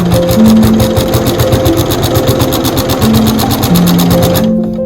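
A sewing machine fitted with a walking foot stitches through quilt fabric, a steady close whirring with rapid even needle pulses that run continuously and stop near the end.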